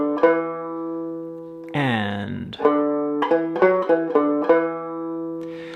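A banjo plays a short phrase from the Irish tune Road to Lisdoonvarna, measure 4 into 5, plucking a lively run of close, bright notes with a sliding pitch bend midway; a voice speaks briefly at the start.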